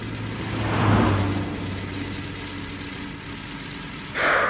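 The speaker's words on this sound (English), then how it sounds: "The police car went past me like a bullet." Police car speeding past, a steady engine roar that swells to a peak and then fades, a close and loud pass with another burst of noise at the very end.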